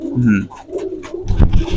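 Giribaj high-flyer pigeons at a farm coo in low, soft repeated calls, with a burst of nearby fluttering and bird noise toward the end; no one speaks.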